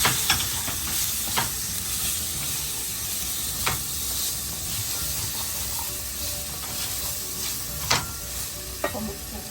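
Boiled chickpeas tumbling into a hot frying pan with spiced oil for a Bengali vegetarian dish, giving a steady close sizzle and fry hiss with scattered stirring scrapes and clinks, no voices.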